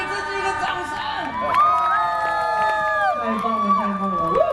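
A festival crowd at a temple Mazu cultural celebration cheers and shouts loudly, whoops and voices swelling around a singer's live performance, with some talk and a high sliding tone above the sustained roar.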